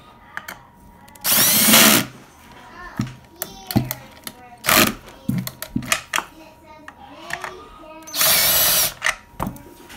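A power drill tightens a bolt while fixing a chair, running in three short, loud bursts close by. Knocks and clatter fill the gaps, and a person talks between the runs.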